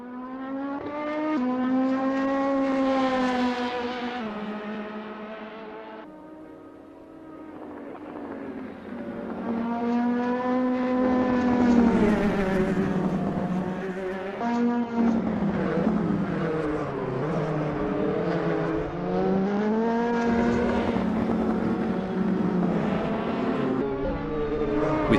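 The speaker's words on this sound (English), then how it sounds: "It's a lovely day for racing here at Interlagos as we watch these drivers warm up and get ready for the race." Oreca 07 LMP2 prototype race cars warming up at Interlagos in Assetto Corsa, a continuous engine drone with rising and falling pitch as they rev and shift, steady and loud with no talking.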